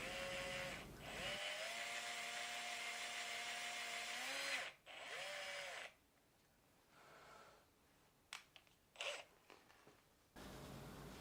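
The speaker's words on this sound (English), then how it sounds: "I can use a hand drill to finish making the truss rod access." A hand drill whirs steadily for several seconds while boring into walnut for a guitar neck's truss rod access, pitch dipping under load, then stops; softer scraping and brief clicks follow before the motor starts again.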